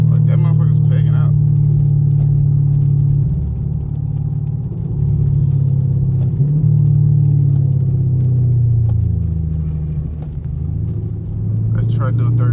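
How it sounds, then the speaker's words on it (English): A 500 hp catless Camaro SS rumbles steadily under throttle, its deep engine drone rising and dipping in pitch with shifts while the driver talks over it. "Let's try to do a third gear pull around this curve."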